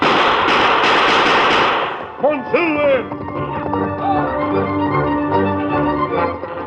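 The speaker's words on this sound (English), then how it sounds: "his flaming gun saved many a trooper from the bullets of the renegade army" Gunfire in a radio western battle between troopers and a renegade army, a burst of rapid shots at the start, then scattered reports and ricochet-like whines under shouting voices and dramatic music.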